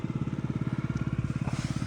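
A fuel-injected Yamaha Jog SA36 scooter engine idles steadily up close, its fast, even put-put pulse continuing without a break and no voices over it.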